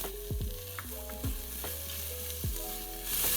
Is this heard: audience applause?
no